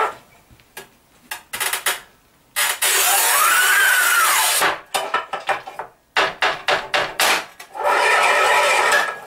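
A Raimondi RAIMO 125 S manual tile cutter scores and snaps porcelain stoneware tile, with a long gritty scraping pass, sharp clicks and clacks, and bursts of rasping strokes, close and loud with no voices.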